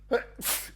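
A single human sneeze, close and sharp, with a quick intake of breath followed by a hissing burst.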